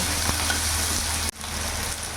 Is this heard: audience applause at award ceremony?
no